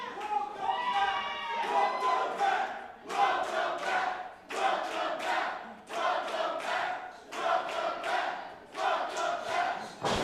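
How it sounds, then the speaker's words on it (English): At a professional wrestling match, a crowd shouts and chants in rhythmic bursts that swell and fall with short pauses between them. The sound is loud and near, with voices mixed in. "This crowd appreciative."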